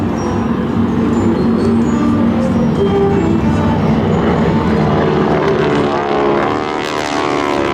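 GEICO Skytypers propeller airplanes fly in a diamond formation at the NAS Patuxent River Air Expo, a loud, continuous droning buzz of several piston engines that swells slightly as they pass overhead.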